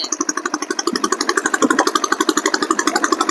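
Motorcycle engine, a rider's souped-up bike, revved on an old road: a rapid, pulsing buzz with steady rhythmic firing that rises briefly in intensity midway, loud and close throughout with no talking.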